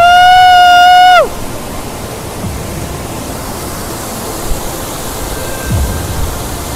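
Waterfall at Khandi village near Pune, a loud broad steady rush of falling water continuing throughout, preceded briefly by a strong electronic tone, with no clear talking.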